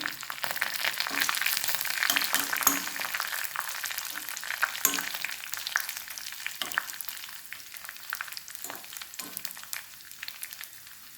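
Curry leaves and split dried red chillies fry in hot oil for a Kerala naranga curry tempering, with a dense, crackling sizzle that is loud at first and eases gradually, punctuated by sharp pops.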